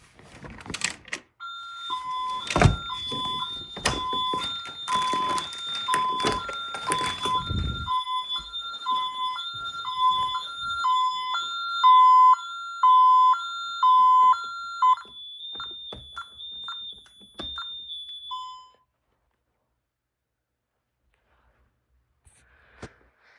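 A Honeywell Vista 15P security alarm system goes off with a loud, steady two-tone warbling siren lasting over ten seconds, with clattering handling noise at the start, before cutting out to near silence.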